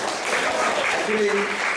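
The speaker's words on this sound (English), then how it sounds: "Let's give a round of applause for the devotees." A crowd claps in a steady wash of applause for devotees during a Sunday class at an ISKCON temple in Atlanta, fairly close, with a few voices mixed in underneath.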